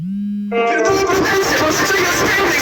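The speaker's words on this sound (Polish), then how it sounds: "sorry za te odgłosy, to jest mój dzwonek" A phone ringtone starts as a steady low tone, then bursts into a loud, harsh, chaotic jumble of sound that fills the rest of the moment close to the microphone.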